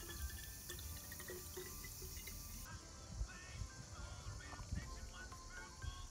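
Drinking water running from a tap in a cemetery in south-west France, a steady continuous splash and trickle with small drips, fairly quiet and heard outdoors.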